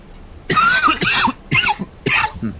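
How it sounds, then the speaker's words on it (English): A person coughs four times in quick, harsh bursts close to the microphone, with brief pauses between them, during a live game stream. "I was coughing at the same time as you"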